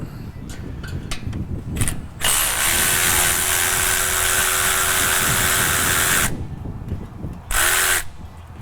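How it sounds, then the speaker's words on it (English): A power tool whirs continuously for about four seconds while loosening 11 mm clamps on a Ford 6.0 Powerstroke turbo, framed by short clicks and handling noises, then gives a brief second burst. "So let's go ahead and loosen these clamps up. These are 11 metric, so we're going to go ahead and loosen them up."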